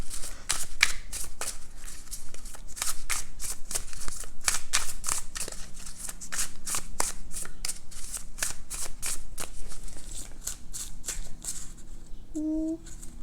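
Animal oracle cards are shuffled by hand in a quick, steady run of crisp riffling flicks, close and clear, ending in a brief pause with a few soft tones.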